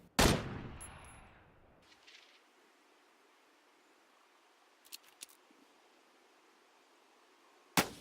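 Gunshots to the head at roughly 300 meters in Battlegrounds, an M16 against a target without a helmet: a sharp crack at the start, then two faint quick distant shots in a row and a final crack at the end, over quiet background.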